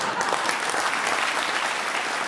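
A studio audience at a German TV comedy show breaks into loud, sustained applause, a dense crackle of many clapping hands filling the room with no speech over it.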